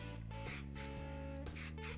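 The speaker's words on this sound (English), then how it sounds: "Let's spray the side here." Hair product sprayed onto the side of a 1950s wave hairstyle, three or four short hissing bursts in quick succession, close and clear over a steady background hum.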